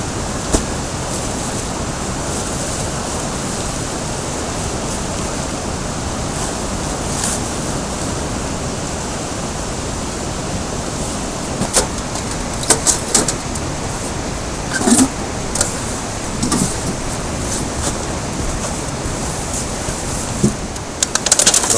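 Titanium wood stove chimney in a tipi during a solo winter mountain bivouac, giving a steady, loud roaring rush throughout with a few faint clicks and crackles on top, no talking.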